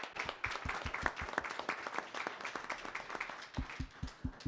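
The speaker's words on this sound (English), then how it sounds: "One last round of applause." Audience applause at an academic ethnic, gender, transborder studies and sociology summit, a dense steady crowd clapping with sharp individual claps standing out near the end.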